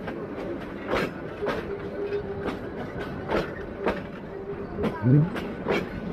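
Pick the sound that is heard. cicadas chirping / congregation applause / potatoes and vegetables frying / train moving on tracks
train moving on tracks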